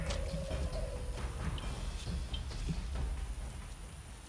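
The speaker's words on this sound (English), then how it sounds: "Rainy weather in the swamps here." Steady rain falls across a swamp in the game The Witcher, a dense even hiss of drops with faint scattered patters and soft thuds beneath, continuous and moderately loud without any talk.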